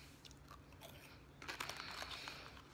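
Someone bites into cookies and cream chocolate wafer cookie bites, making a few faint, close crunches in an otherwise quiet space.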